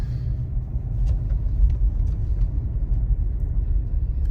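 A 4-wheel drive vehicle driving down a snowy hill, a steady, close low rumble of engine and tyres heard from inside, with faint clicks above it.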